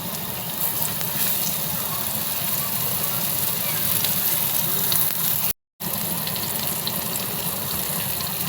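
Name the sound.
fish frying on a tawa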